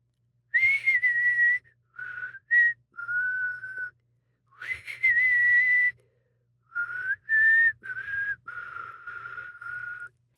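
A person whistles the theme from The Good, the Bad and the Ugly in clear, sustained phrases with short pauses between them, close and alone against a quiet background.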